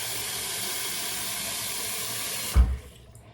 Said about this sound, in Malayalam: ഞാൻ വെള്ളം തിളപ്പിക്കാൻ വെക്കട്ടെ കേട്ടോ